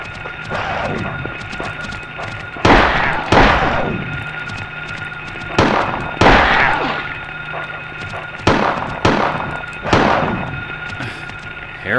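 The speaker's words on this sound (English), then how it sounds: "That sounds like gunshots." Gunshots in the survival horror game Silent Hill: about six sharp, loud bangs come in irregular bursts over a low ambient game backdrop.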